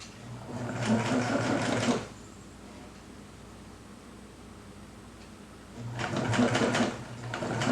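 A sewing machine stitches a shirt collar stand onto the bodice in two bursts of steady, rapid needle clatter, about two seconds each, separated by a quiet pause of several seconds.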